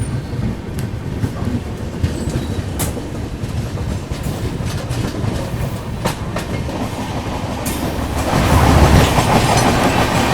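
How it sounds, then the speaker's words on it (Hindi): Kashi Vishwanath Express pulling out of Rampur Junction, a steady rumble with clickety-clack of wheels over rail joints, growing louder and rougher near the end, with no voices. "चलिए दोस्तों निकल गई ट्रेन ये रामपुर जंक्शन से।"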